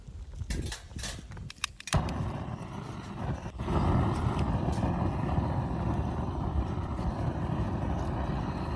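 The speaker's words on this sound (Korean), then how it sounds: "바람이 많이 불어가지고 이거 장작을 계속 못댈것 같은데요 바람이 엄청 불어요" Strong wind gusting at a cold winter campsite by a firewood fire, a rough roaring rush close to the microphone after a few opening clicks and knocks.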